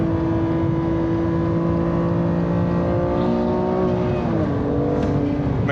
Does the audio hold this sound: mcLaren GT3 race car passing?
yes